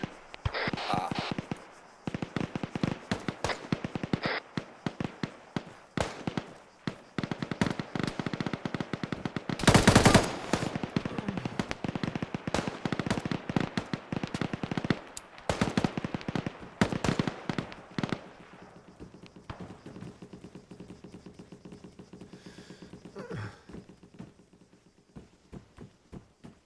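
Rapid bursts of video game gunfire crackle in dense volleys across a rooftop fight, with one loud blast midway before the shooting thins out and fades toward the end.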